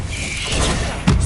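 Bombarda spell explosion in Hogwarts Legacy, a short, loud blast with a heavy thud at the end amid dense game sounds.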